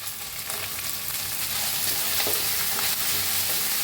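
Eggplant with green peas and tomato frying in a pan, a steady broadband sizzle with soft stirring scrapes, close and continuous without pauses, no voices.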